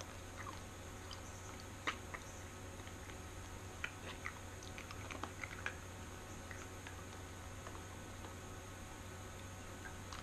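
Small crunchy bulk-store croquette snacks being chewed close up, sparse crisp crunches and clicks scattered over a quiet hiss, soft and intermittent with no talking.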